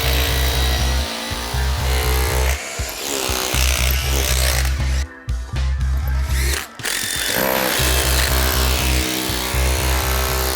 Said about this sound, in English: So we're done drilling a few holes just to do a little demonstration for you how we secure this to the floor.